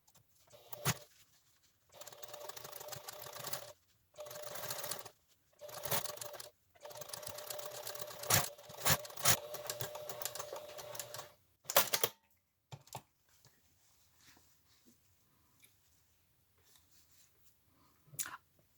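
A sewing machine topstitches a seam on a fabric face mask in several bursts of rapid, steady stitching separated by short pauses, then falls quiet apart from a few clicks.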